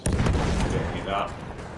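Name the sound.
explosive detonation in Battlefield 1 video game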